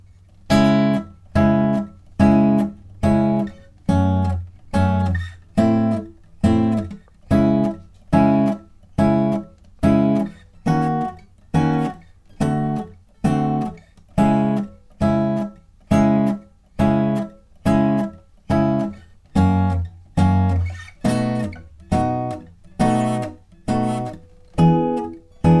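An acoustic guitar plays the bridge of a song in evenly spaced single plucked chords, about thirty of them in a slow, steady rhythm. Each rings briefly, clear and close, with no talking.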